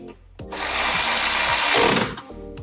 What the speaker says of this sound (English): we're ready to tighten those 10mm bolts